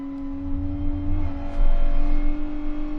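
A race car in the GT Sport video game, an N300 class car at Brands Hatch Indy, drones with a steady engine tone that swells louder about halfway through as it revs, with no talking over it.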